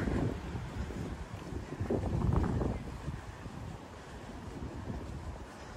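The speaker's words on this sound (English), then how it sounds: "It's also a little bit windy right here." Steady wind buffets the microphone with low rumbling gusts on a street corner in Frankfurt's Westend, swelling briefly near the middle, while a voice talks faintly underneath.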